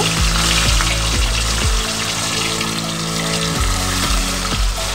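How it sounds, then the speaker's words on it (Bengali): Bata fish frying in a kadai of hot mustard oil gives off a dense, continuous sizzle, loud and close, with low rhythmic thumps underneath and no voices. "বাদবাকি মাছগুলোকে আমি ভেজে নেব"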